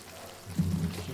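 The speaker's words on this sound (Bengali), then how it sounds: "উপর থেকে দিয়ে দিচ্ছি একটু সর্ষে তেল।" Mustard oil poured from above over vegetables cooking in a pan for a vegetarian chechki, a brief soft pouring swish with a low sizzle, close and alone.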